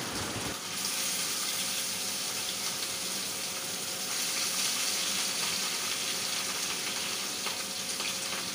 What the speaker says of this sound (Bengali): আর রুই মাছগুলোকে একটু লাল লাল করে ভেজে নেব